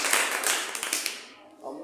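A burst of clapping rises for two teachers at a school gathering, with dense hand claps through the first second before thinning out, while a voice carries on over the applause near the end.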